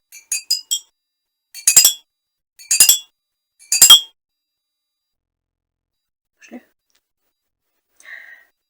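Small glass bottles filled with tinted water are struck like a homemade instrument, giving bright ringing clinks: a quick cluster of taps, then three separate louder strikes, followed by a few faint touches amid silence.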